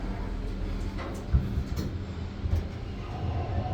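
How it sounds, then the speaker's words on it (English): A 2009 Schindler 330a dual jack holeless hydraulic elevator runs with a low, steady rumble and hum, a few soft clunks and thumps rising briefly above the smooth drone. "A fucking Schindler dual jack holeless hydraulic system. Sounds so good, runs so smooth."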